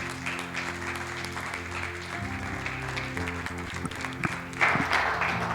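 A church congregation applauding as their pastor is welcomed, steady clapping under sustained organ or keyboard chords, growing louder near the end.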